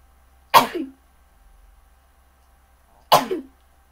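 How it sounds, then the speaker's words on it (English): Two loud, sharp human sneezes, the first just after the start and the second about two and a half seconds later, each standing alone with quiet in between. "I'm about to sneeze."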